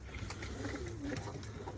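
Soft, low pigeon cooing murmurs steadily against a busy background hum, with faint chirps mixed in.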